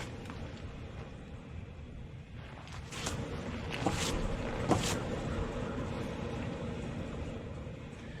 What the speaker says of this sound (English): whenever you're driving, you hear a pretty loud growl coming from the what sounds like the left front.